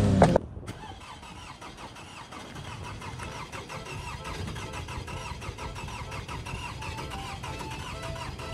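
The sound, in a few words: car engine starting and running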